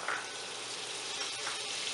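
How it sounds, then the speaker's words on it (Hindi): Cooking oil and butter heating over medium heat in a pan for spiced potatoes give a steady, soft, even sizzle and hiss throughout, with no talking. "इसमें हमने कुकिंग ऑयल डाल देना है 4 टेबलस्पून, साथ ही हमने बटर डाल देना है 2 टेबलस्पून"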